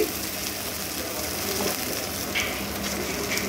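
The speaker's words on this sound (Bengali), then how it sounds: "1 চামচ জিরে গুঁড়ো, 1 চামচ ধনে গুঁড়ো দিয়ে একটু নাড়াচাড়া করে নেব।" Ground cumin and coriander are stirred in a frying pan with bottle gourd for a Punjabi lau doi, a steady close sizzle with faint scraping of the spoon, without talk.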